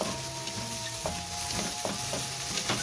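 Chicken afritada sizzling in a pan while being stirred, with steady frying hiss and a few scraping knocks of the utensil against the pan.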